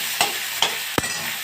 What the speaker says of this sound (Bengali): বেগুনগুলো ওই তেলে কেমন এই যে দেখুন ডুবু ডুবু করে ভাজা হয়ে যাচ্ছে